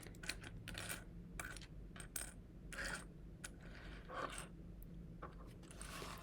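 Coins click and clink as they are set down one after another onto a surface to build an array, a series of bright, close metallic taps with quiet pauses between.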